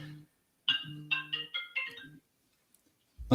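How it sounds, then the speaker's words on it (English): A smartwatch notification alert chimes in a short run of bright, close tonal beeps, several quick notes in a row followed by silence, with no talk over it. "I thought we turned everything off, but my watch keeps going off now"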